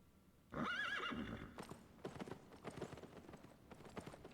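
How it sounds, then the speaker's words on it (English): A video game horse gives a shrill, rising whinny, followed by a run of hollow clip-clop hoofbeats, clear and fairly close. "That's different horse sounds every time."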